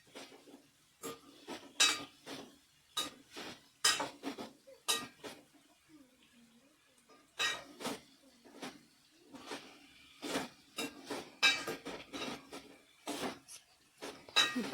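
Peanuts are stirred and fried in a pan as a spoon clicks and scrapes against the metal in quick irregular bursts of sharp clinks and rattles, separated by brief pauses, close and fairly quiet with no talk.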